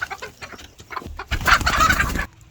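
Two hens in a coop cluck in quick, close bursts, building to a louder agitated squawking run before it cuts off.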